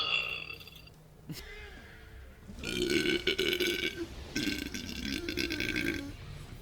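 Two long, deep, gurgling burps, close to the microphone, with a short quieter pause between them.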